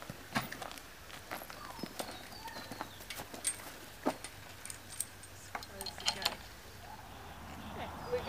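A horse walks on foot, its hooves clip-clopping in scattered, fairly faint steps while being led toward a gate outdoors, with light jangling and soft background noise.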